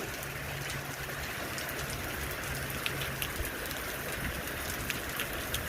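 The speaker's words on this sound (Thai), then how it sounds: "ฝนตกครับฝนตก" Steady rain falls and patters on a surface, with scattered louder drips standing out against the constant hiss.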